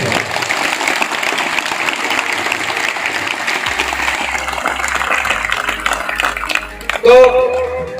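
An audience at a school event in a village breaks into sustained, loud applause, with dense clapping throughout and a voice cutting through near the end.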